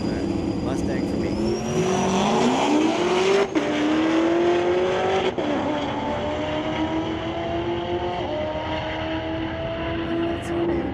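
A 2016 Corvette Z06 and a Mustang drag racing at a raceway on a street-legal drag night, with loud, continuous engine roar climbing in pitch through gear changes. A voice talks under the noise.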